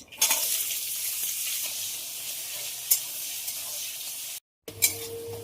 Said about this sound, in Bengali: পেঁয়াজ খুব ভালোভাবে ভাজা হয়ে গেছে